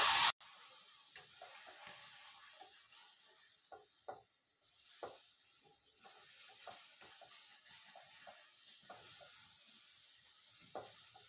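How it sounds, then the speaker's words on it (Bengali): Mango pieces cooking down with sugar in a pan, a soft background sizzle with scattered spoon scrapes and occasional stirs after a sharp opening bump, quiet and close with no talking. "এখন এরকম কিছুক্ষণ পর পর নেড়ে ছেড়ে দিতে হবে।"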